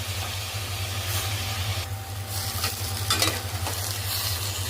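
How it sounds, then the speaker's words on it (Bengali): Sweet corn and chicken frying lightly together in a pan for soup, a continuous close sizzle with occasional stirring scrapes and a low background hum. "স্যুপটা কর্নটা দিয়ে ভালো করে চিকেনের সঙ্গে হালকাভাবে ফ্রাই করে নেব।"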